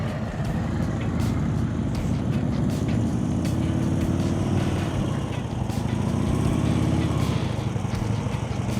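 A motorcycle engine runs steadily at slow speed during low-speed riding practice, its throttle rising and falling unevenly, with a continuous close rumble and light background noise.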